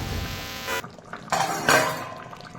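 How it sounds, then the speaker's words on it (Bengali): A metal lid lifted off a cooking pot of fish head curry with tomato, giving a few close clinks and scrapes after a steady kitchen hum cuts out. "ঢাকনা তুলে নিচ্ছি।"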